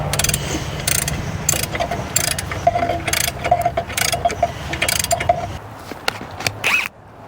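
A ratchet wrench tightens a bolt during a rebuild of a 1972 CAT 3306 diesel engine, giving a close, rapid run of clicking strokes in quick bursts that stop abruptly near the end.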